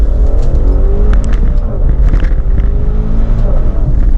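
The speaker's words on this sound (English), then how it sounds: "And so I'm going to let the engine sing. I'm going to downshift in first gear." A Maserati Levante Trofeo's 590-horsepower engine revs hard on a downshift into first gear, a loud, close, sustained snarl with rising and falling pitch and no talking over it.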